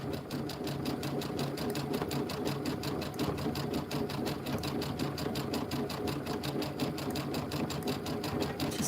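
An embroidery sewing machine stitches a rope bowl held in a hoop, giving a steady, rapid mechanical rattle of needle strokes that runs continuously and close up with no talking.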